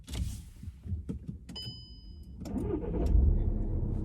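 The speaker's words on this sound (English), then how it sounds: "Okay, so start your car." A car engine cranks and catches, settling into a steady running rumble after a few brief clicks and mechanical whirs.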